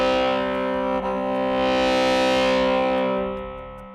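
An electric violin run through distortion and reverb pedal effects holds a sustained, buzzing, heavily saturated tone for several seconds, with a swelling reverberant wash and no talking.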